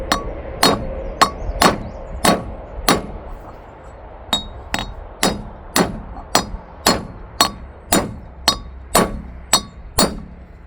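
Steel hammer whacking a wheel bearing into a trailer hub outdoors in a field: a steady series of about eighteen sharp, ringing metallic strikes, close and loud, spaced roughly half a second apart with a brief pause midway.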